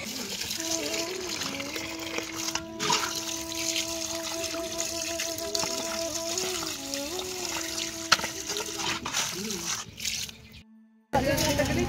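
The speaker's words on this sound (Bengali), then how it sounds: "দেখো জলটা কি সুন্দর সরু হয়ে পড়ছে।" Water falls from a tap through a short cut length of pipe in a steady, continuous splashing stream, with a voice speaking over it and a short break near the end.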